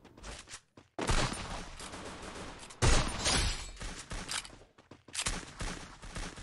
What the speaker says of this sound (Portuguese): Tô tomando tiro de onde?